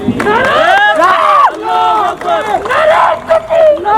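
A rally crowd at a political gathering chants slogans in loud unison, voices rising and falling in rhythmic shouted phrases with brief pauses between calls, close and forceful throughout.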